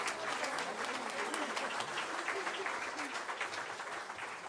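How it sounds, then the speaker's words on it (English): Dense, steady applause from an awards-ceremony audience at a financial-services industry gala, many hands clapping together at close range throughout, easing only slightly toward the end. "Ladies and gentlemen, big round of applause."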